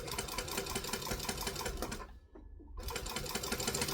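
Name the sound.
sewing machine stitching close to the fabric edge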